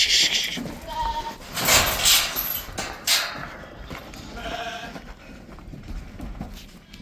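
Goats bleat repeatedly at mid distance during loading on a farm, with scattered calls and shuffling hoof and handling noise around them.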